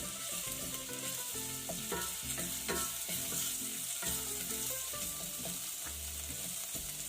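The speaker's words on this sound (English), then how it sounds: "I've added in a splash of cooking oil. I'm going to be adding in garlic. Stir that around a bit." Garlic sizzling in a splash of cooking oil as a spoon stirs it around the pan, a steady crackle with repeated scraping strokes, no voices.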